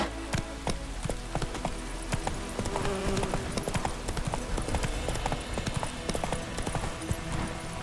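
Geralt's horse Roach gallops in The Witcher 3 in a fast, continuous clip-clop of hooves. Faint game ambience sits behind the hoofbeats, with no clear voices over them.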